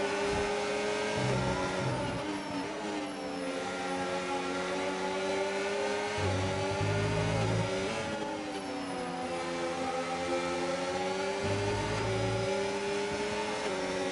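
Racing car engines in a sim racing game at the Austria circuit, a dense pack of cars with several engines droning together, pitch rising and falling through gear changes and corners, loud and continuous without talk.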